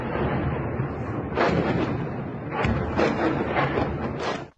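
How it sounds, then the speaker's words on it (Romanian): Multiple explosions going off at once in war news footage from Ugledar in the Donetsk region: loud, continuous rumbling blasts with several sharper booms swelling through the roar, alone with no voices. "Aceste imagini publicate de oficialii de la Kiev arată 10 de explozii care au loc simultan"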